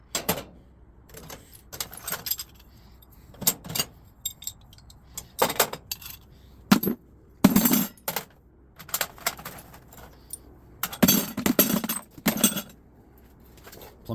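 Scrap brass plumbing pieces clink and rattle into a bucket in a garage: a series of bright, separate metallic chinks, some single and some clustered, close and clear over near silence.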